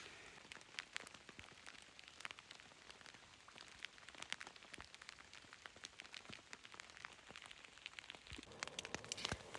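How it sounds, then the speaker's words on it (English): Rain patters on a backpacking tent pitched on a slope near Packwood Lake, a dense, irregular drumming of close drops that goes on steadily throughout, fairly quiet overall with no one speaking. "and it's still raining."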